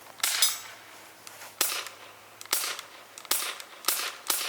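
Copperhead BBs fired at a powder-coated gun land as about six sharp cracking impacts, each with a bright metallic snap and brief ring, spaced irregularly about a second apart.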